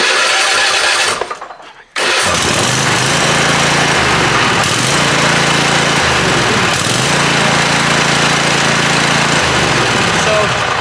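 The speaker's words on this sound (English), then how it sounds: "if I move my butt just to adjust my seat, it kills the mower" A riding lawn mower engine with a sensitive seat safety switch runs loud and close, cuts out abruptly for about a second, then roars back and drones steadily at full throttle.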